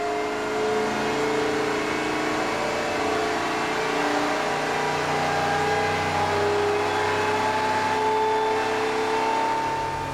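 A car engine runs on its own on a dyno, without wheels attached, and revs steadily with a rising, droning tone. The sound is loud and continuous throughout, with no voices.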